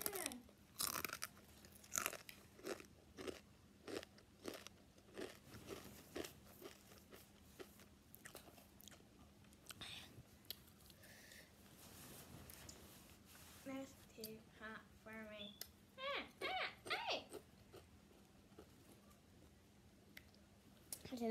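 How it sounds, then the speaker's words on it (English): Someone bites and chews a spicy chip close to the mic, with repeated crisp crunches and wet chewing spread through, mixed with soft talking. "Okay, first spicy chip."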